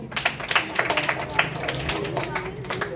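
Children clap for a child at a Christmas event, a scattered patter of small hands that starts and stops unevenly, moderately loud and mixed with voices talking in the room.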